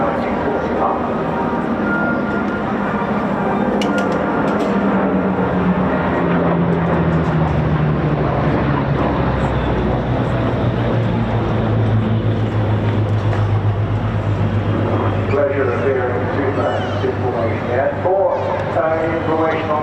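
A propeller warbird at the Bournemouth Air Festival drones overhead, a loud sustained engine roar that shifts in pitch as it passes, with a commentator talking over it throughout.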